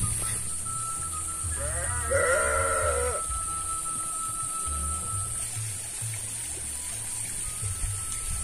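A sheep lets out one wavering bleat of about a second and a half from a pen among rice fields. The bleat sounds moderately close over steady running water and a high insect-like whine.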